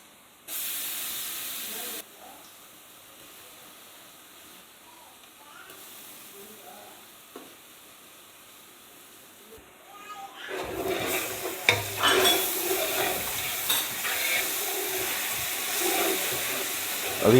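Onions fry with ginger garlic paste in a pan, giving a soft steady hiss that grows into louder sizzling with scraping stirs and clatter toward the end.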